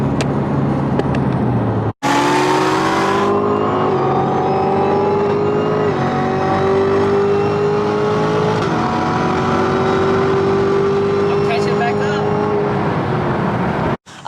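Chevrolet Camaro ZL1 and Corvette C7 Z06 racing on a road in Mexico, a loud sustained engine roar with steady rising gear pulls and shifts, close to the microphone, ending with an abrupt cut.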